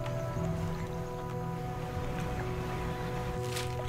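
A fishing boat's motor in the video game DREDGE hums steadily with a low engine drone and faint water lapping, quiet and continuous throughout.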